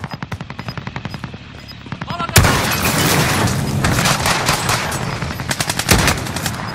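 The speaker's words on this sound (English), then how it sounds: "I am under fire." Gunfire in the video game Call of Duty Warzone: rapid automatic bursts, then a loud dense stretch of shots and booms that keeps going, with a game voice over the top.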